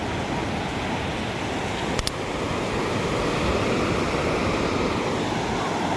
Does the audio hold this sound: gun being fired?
no